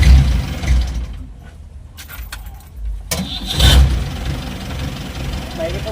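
A car engine, still warm, cranks and catches, then settles into a steady idle, with a voice speaking over the running engine.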